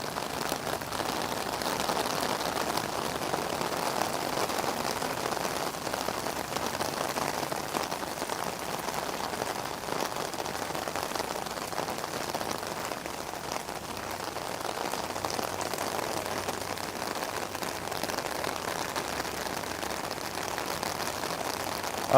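Steady rain falls throughout a cherry blossom walk near Osaka Castle in Osaka, a continuous, even patter on surfaces with no voices and no breaks.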